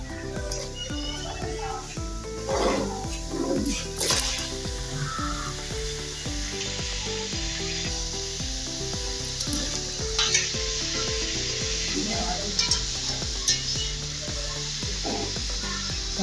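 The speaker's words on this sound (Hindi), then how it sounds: "चिकन इसके अंदर इसको मैंने अच्छी तरह फ्राई करना है।" Boiled chicken pieces fry in oil in a pan for a restaurant-style spicy chicken biryani, a steady dense sizzle running throughout with occasional stirring scrapes and clinks, and no talk over it.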